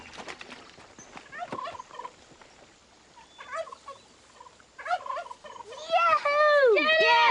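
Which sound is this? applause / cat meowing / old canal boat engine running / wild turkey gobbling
wild turkey gobbling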